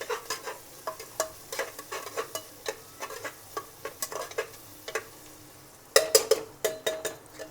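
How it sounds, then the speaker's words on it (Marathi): Garlic frying in a home kitchen pan, a soft sizzle under repeated spatula stirs and scrapes, with a louder cluster of metallic knocks near the end. "लसूण पण 2-3 मिनिटं चांगला फ्राय होऊ देते"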